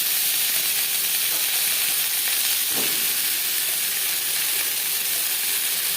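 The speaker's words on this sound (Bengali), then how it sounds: "এবার আমি পটল হালকা করে ভেজে নেব" Slices of pointed gourd (potol) sizzle in hot refined oil, a dense, continuous frying hiss that stays loud and steady throughout.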